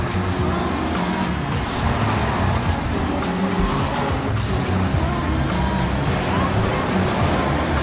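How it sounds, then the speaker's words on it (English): A taxi driven in Grand Theft Auto III, with a constant, busy engine roar and occasional tire squeals amid street traffic noise. "Driving a taxi. He's stealing it off someone else."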